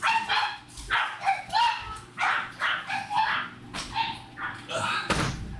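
Several pet dogs barking and yipping excitedly in a house, a rapid run of sharp barks and whines close by, fairly loud and nearly continuous.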